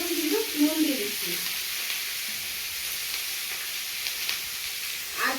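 Potatoes and bori fry in a pan with salt, giving a steady, moderate sizzle with a few louder stirring bursts near the start.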